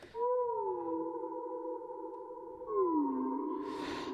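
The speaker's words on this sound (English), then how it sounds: "what shimmer is, it's kind of like a mix of reverb, echo, delay, all in one" Sustained, glassy tones glide and hold with a bright, shimmering reverb tail from a shimmer reverb plugin, mixing reverb, echo and delay, that swells and lingers, smooth and ethereal.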